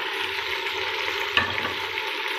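Tomatoes and dry spices stirred in a hot pan for beef trotters curry, a steady hissing fry with one brief utensil knock midway, close and even throughout.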